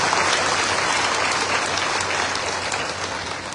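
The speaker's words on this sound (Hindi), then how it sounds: "मैं बोल रहा हूँ ताली बजाइए" Audience applause at a closing ceremony in Maharashtra, a dense, steady burst of many hands clapping together, loud and sustained without pause.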